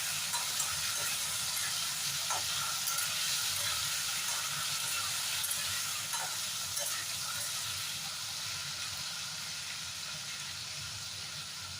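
Steady frying sizzle of salted taro in a pan with a broad hiss, continuous and fairly quiet throughout, with faint occasional clinks and no talking.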